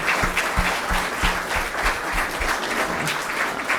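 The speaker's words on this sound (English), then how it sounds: "can we give another round of applause for the staff here?" An event audience gives the staff a round of applause: loud, full clapping from many hands, steady and sustained throughout, with a few heavier claps standing out and no talking over it.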